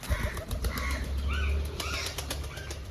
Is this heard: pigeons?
yes